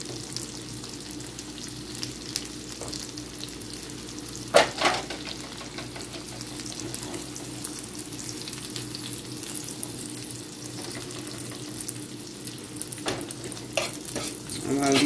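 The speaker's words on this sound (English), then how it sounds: "while these are frying in the corner" Burger patties sizzle steadily in a pan, with occasional clinks and scraping of a utensil stirring close by.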